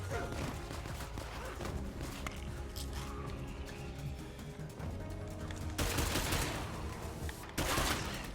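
Sustained gunfire in the zombie survival video game State of Decay 2, with dense rapid shots and bursts running throughout amid game noise, with brief louder volleys near the end.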